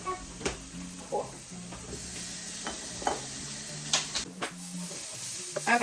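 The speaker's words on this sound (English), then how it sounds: "Okay, so I'm just stirring this around a little bit." Ground turkey sizzles steadily in a pan while it is stirred, with a continuous close frying hiss broken by repeated scrapes and knocks of the utensil against the pan.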